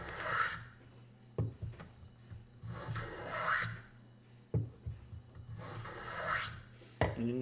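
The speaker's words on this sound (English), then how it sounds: "I'm planing it out on this little block right there" A hand plane shaves a wooden violin bow stick braced on a small block, making long rasping strokes in a slow, even rhythm, each ending with a sharp knock, close and with no voices.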